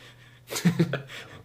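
A single sudden sneeze, close and fairly loud, with a sharp burst and brief trailing breath in an otherwise quiet room.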